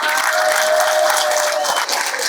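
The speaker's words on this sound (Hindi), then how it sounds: "उनके लिए ताली बजा दो यार एक।" Sustained, dense applause from a large audience, loud and continuous throughout with no talk over it.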